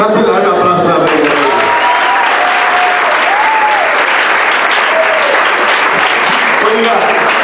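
A church congregation bursts into loud, sustained applause that fills the whole stretch, with voices calling out and cheering through the clapping.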